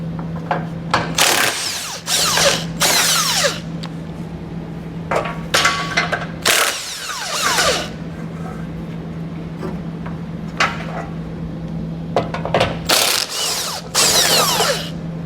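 A hand ratchet working the bolts of a Draw-Tite Class III trailer hitch on a 2019 Subaru Outback wagon, bursts of rapid clicking separated by pauses, under a steady low hum, close by.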